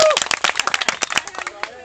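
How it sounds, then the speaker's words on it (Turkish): A small group clapping irregularly at close range, quick uneven claps with shouted voices mixed in, tapering slightly toward the end. "alkış."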